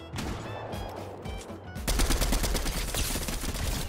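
Small SMG firing in a Fortnite-style video game, rapid sustained bursts of automatic gunfire, loud and continuous, with an earlier lighter burst before a denser stream of shots.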